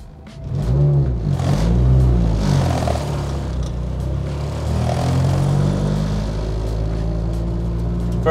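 A car with a B series transmission pulls away in first gear, its engine revving up loudly and then settling into a steady low rumble with a whirring drivetrain, heard close from inside the vehicle and without speech.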